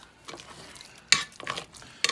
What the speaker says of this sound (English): Now we are going to mix it in our mashed potatoes.